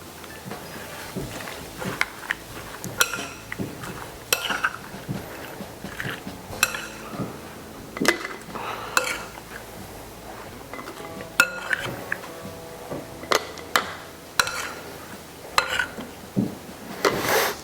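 Raw venison being mixed with curing salt for canning, a spoon clinking and scraping against a jar or bowl in irregular sharp strikes over about eighteen seconds, close and moderately loud.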